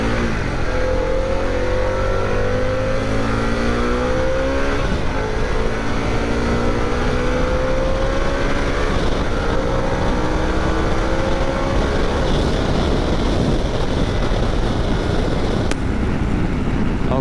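A 2021 Harley-Davidson Pan America 1250 motorcycle engine pulls hard through repeated rising revs, climbing in pitch, dropping at each gear change, then climbing again, loud and close with steady wind roar and no talking.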